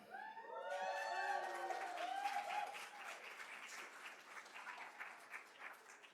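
A university audience at a Wichita State weekly briefing gives steady, moderately faint applause that holds for several seconds and slowly thins. A voice is heard at the start.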